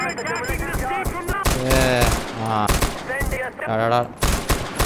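Rapid bursts of gunfire in Far Cry 4: Valley of the Yetis crackle in quick repeated volleys, mixed with a person talking loudly over the shooting.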